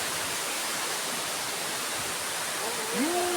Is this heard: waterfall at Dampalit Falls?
yes